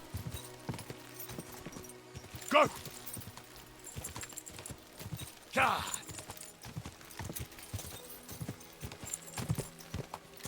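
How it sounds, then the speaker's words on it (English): A horse gallops over uneven terrain in the medieval video game Kingdom Come: Deliverance II, with rapid, steady clip-clopping hoofbeats, two brief louder gusts and a player talking over it. "I'm surprised the horse is going so quickly in this uneven terrain."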